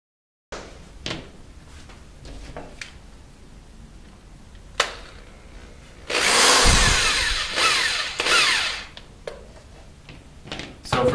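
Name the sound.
driving screws into shoe soles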